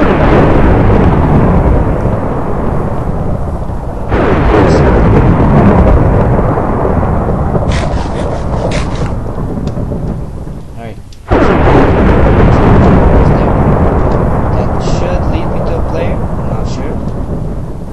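Thunder from lightning in a Minecraft Hunger Games match, a loud, sustained rumbling roar that swells, drops off briefly, then crashes back in and rolls on.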